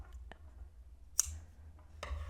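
Scissors snip a crochet yarn tail on a tiny amigurumi frog, giving a few quiet, sharp, close clicks spaced irregularly over a near-silent background with a low hum.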